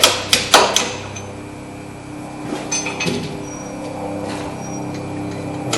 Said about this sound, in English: we're just going to tap that bolt out.